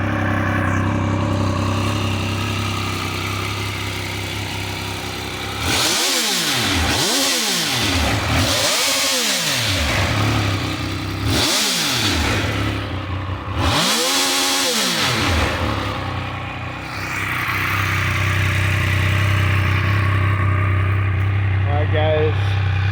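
A Triumph Speed Triple 1200 RS motorcycle engine starting and revving in cold weather, several loud throttle blips rising and falling over a steady idle, close and alone without talk.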